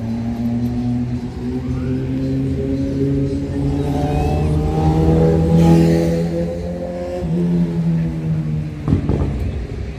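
Cars pass along a narrow street in the wealthy seaside suburb of Camps Bay, South Africa, with a steady low engine rumble that swells and fades as vehicles go by, and a brief louder pass near the end.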